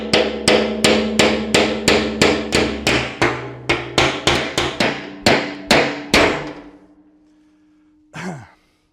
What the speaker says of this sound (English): a chisel and a hammer